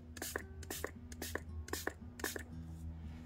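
An aerosol can of acrylic sealer sprays resin ornaments in about eight short, sharp spritzes spaced irregularly, quiet and close, over a faint low hum.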